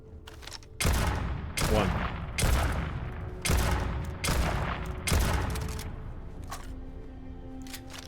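Mag pulse gunfire in a video game, a series of about six heavy, booming shots at a slow, regular pace, each ringing out before the next, with a brief spoken word near the end.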